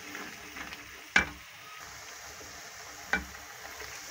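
Onion, garlic and green chillies frying in a pan for a dhaba-style ghiya tori curry, a soft steady sizzle with two sharp clinks of a spoon against the pan, fairly quiet and without talk.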